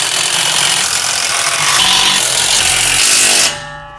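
Loud continuous mechanical whirring of a powered wrench driving carriage bolts on a MicroSport Overland trailer during assembly, steady for several seconds before cutting off abruptly near the end.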